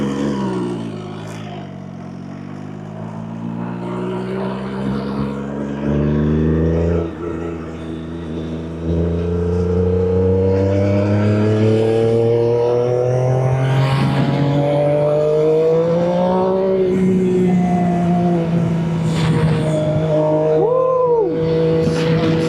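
An MV Agusta Superveloce S 800 sport motorcycle fitted with an Arrow aftermarket exhaust revs loudly and close by, its pitch rising and falling through repeated throttle blips and sustained high-rev pulls, with no talk over it.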